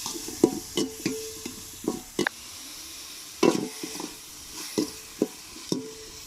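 Small onions sauté in a pan until golden, a low sizzle under regular spoon strokes that scrape and clack against the pan about once a second.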